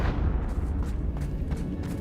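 A fiery Confringo spell blast in Hogwarts Legacy booms with deep, rumbling low-end explosions and crackling bursts repeating across two seconds, close and heavy, without any talk over it.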